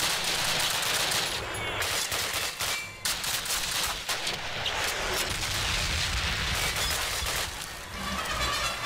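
Sustained gunfire in a Call of Duty campaign mission at a railway marshalling yard: dense bursts of shots and rattling fire, loud and continuous across the whole stretch, with brief lulls but no speech.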